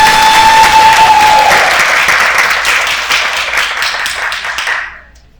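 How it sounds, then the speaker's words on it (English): A crowd at a graduation ceremony applauds loudly and steadily for several seconds, the clapping thinning and fading out at the end. "Let's give them another round of applause."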